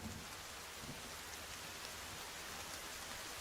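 Steady rain hisses throughout a scene in the video game Sons of the Forest, a dense, even wash of noise at low level with no distinct drops or breaks.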